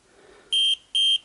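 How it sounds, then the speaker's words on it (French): An aftermarket tire pressure monitor sounds its alarm with two loud, shrill electronic beeps in quick succession over a quiet background. "Alors pourquoi l'alarme se met pour le premier?"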